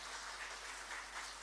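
Soft, distant applause from an audience at a government platform launch event, a brief, even patter of many hands clapping at low volume.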